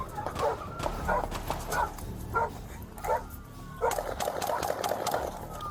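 Police dogs bark in repeated sharp bursts, several barking at once at varying distances, with a few yips mixed in over steady outdoor background noise.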